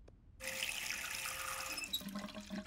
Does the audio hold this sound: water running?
yes